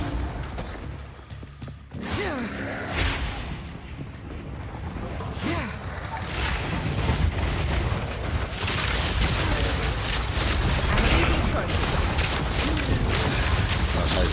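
A gas explosion build in a video game sets off repeated blasts, whooshes and crashing bursts that build into a dense, continuous roar of combat, with a voice talking over parts of it.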